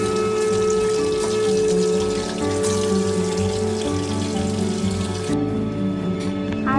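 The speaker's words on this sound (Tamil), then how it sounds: "மீதி இருக்க எல்லா சிக்கனுமே இந்த மாதிரி நல்லா பொரிச்சு எடுத்துக்கலாம்." Pieces of chicken 65 deep-fry in hot oil, giving a dense, continuous sizzle that stays loud and even from start to finish.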